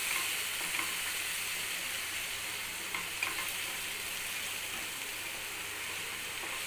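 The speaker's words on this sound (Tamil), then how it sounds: "சேர்த்து அதையும் நம்ம நல்லா வதக்கி வச்சுக்கலாம்." Ground tomato paste sautés in a frying pan for paneer masala, giving a steady, close, hissing sizzle with faint stirring clicks throughout and no talking.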